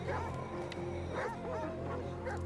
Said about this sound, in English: 30 to 50 feral dogs.